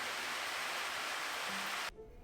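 Water spraying onto plant leaves, a steady, soft hiss of droplets that cuts off abruptly near the end.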